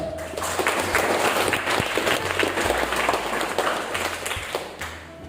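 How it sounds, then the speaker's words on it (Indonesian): Audience applause from university students at a campus orientation event, a lively dense clapping crowd with distinct sharp claps and a few thumps, fairly close and sustained, easing slightly toward the end. "kita beri tepuk tangan kepada IMM yang bikin acara master"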